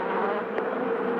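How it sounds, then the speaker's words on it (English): A dense swarm of Africanized killer bees drones in a steady, continuous buzz filling the space close by, with no voices over it. "500 bees or so have already come out."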